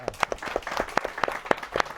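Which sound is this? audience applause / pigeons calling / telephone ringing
audience applause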